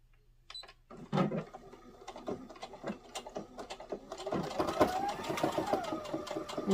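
A sewing machine backstitches fabric for a Valentine gnome mitten, starting with a few slow stitches and then speeding into a steady, close mechanical whir with a rapid rhythmic clatter.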